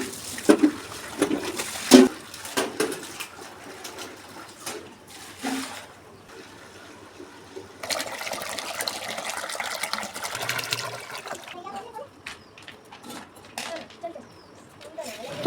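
Running water gushes from a tap at home during dish washing and then filling drinking water, splashing and pouring in bursts while someone talks over it.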